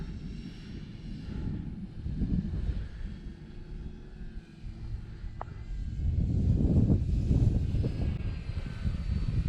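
An Eflite Air Tractor PnP RC crop duster plane flies nearby, its electric propeller drone steady and swelling louder toward the end as it passes closer.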